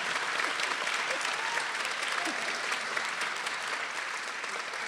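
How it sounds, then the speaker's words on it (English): Audience clapping fills the room at a Dean's List recognition ceremony for graduating students, a steady, dense round of applause held at even strength from start to finish. "a round of applause"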